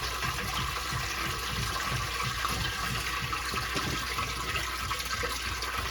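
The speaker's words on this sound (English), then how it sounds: "the pit is filling up" Water rushing steadily into a sump pump pit in a basement, a continuous, fairly loud gushing and splashing like a filling tank that lasts the whole stretch with no talking.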